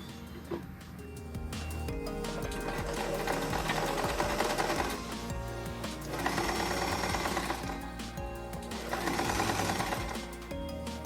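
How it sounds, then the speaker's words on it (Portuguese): A sewing machine stitches a seam on a gathered skirt, a loud, close, steady rapid mechanical chatter that runs in long bursts with brief slowdowns between them. "Vou começar a outra costura do outro lado, mas sem costurar em cima do que foi feito ali."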